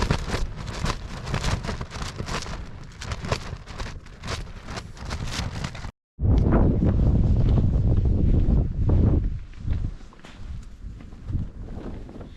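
Strong wind batters a tent pitched on soft desert sand, gusting in loud rushing waves that flap and buffet the fabric close by, with a brief sharp cutout in the middle.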